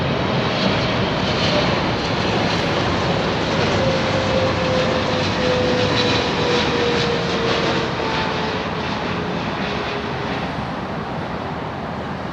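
A Qatar Boeing 777 jet at Heathrow Airport roars steadily, a loud broad rushing engine noise with a faint whining tone drifting down in pitch, continuous and without talk.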